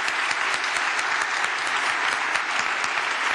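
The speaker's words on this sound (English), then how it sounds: "Let's give them a round of applause." A conference audience gives its panel a round of applause, steady dense clapping from many hands, fairly close and even, lasting over three seconds with no talk.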